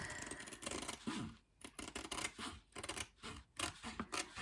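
Scissors cut along an edge, close and quiet, a run of short rasping snips broken by small gaps, with no voices over them.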